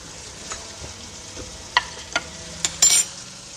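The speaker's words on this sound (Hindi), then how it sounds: "इसको 5 मिनट के लिए फ्राई करेंगे" Spices such as ground chilli, turmeric and salt fry with mutton in a shaljam gosht pot, giving a soft continuous sizzle broken by a few sharp spoon clinks and a brief burst of scraping near the end.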